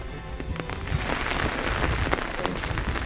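Steady rain falls outdoors in a rural village, a dense even patter across the whole stretch with scattered closer drops, no voices heard.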